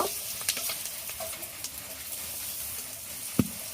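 Chopped onion and green chili frying in hot oil in a wok, a steady close sizzle with a couple of sharp pops and faint stirring scrapes, no talk.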